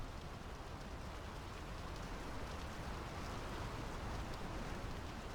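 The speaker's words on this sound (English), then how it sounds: "The rain's picking up. We should get indoors." Steady rain in the Draugen game, a dense even hiss of falling drops on surfaces, close and constant with no voices.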